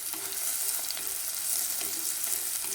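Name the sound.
mustard seeds spluttering in hot oil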